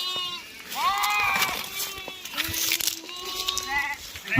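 Sheep bleat repeatedly while being driven into their pen on a rainy evening, several wavering calls overlapping at moderate distance, some higher and some lower, with quiet rustling between them.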